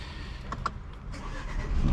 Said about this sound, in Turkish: Çalıştıralım bir motorumuzu.